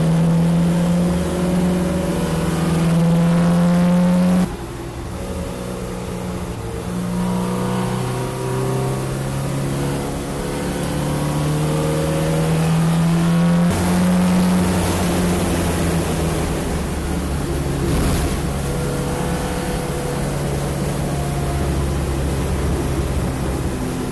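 A historic MGB race car driving flat out around the Brooklands Grand Prix circuit on a hot day, its engine droning loud and steady with rising and falling pitch through gear changes, close and continuous throughout.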